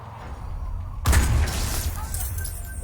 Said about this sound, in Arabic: البتاعة اتكسرت، ضربوها طلقة